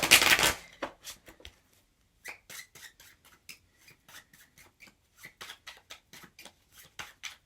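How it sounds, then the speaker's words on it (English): A deck of tarot cards is shuffled close up: a loud rush at first, then a long run of quick, crisp slaps and flicks with brief pauses. "Let's do another shuffle here."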